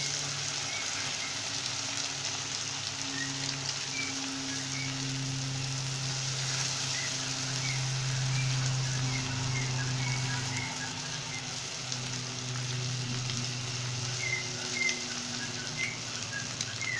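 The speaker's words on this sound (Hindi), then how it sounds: "फ्लेम को हाई रखते हुए अंडे डालने के बाद हम इसे 2 मिनट पकाएंगे।" An egg omelette with onions and tomatoes sizzles and fries in a pan over a high flame, a steady close crackle lasting throughout, with no talking.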